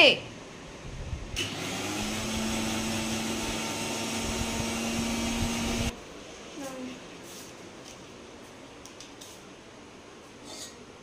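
An electric mixer grinder whirs steadily for about four and a half seconds as it grinds ingredients for gupchup, a loud continuous motor drone that cuts off abruptly, followed by quieter room sounds.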